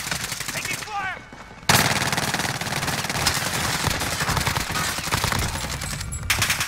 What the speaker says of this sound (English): Who the fuck is shooting like that?